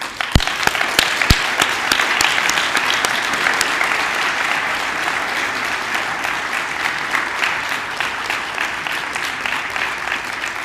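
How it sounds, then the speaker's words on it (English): Sustained crowd applause at a high school graduation commencement ceremony, a dense steady wash of many hands clapping in a large room, with a few sharp individual claps standing out early on. "Let's give you a round of applause."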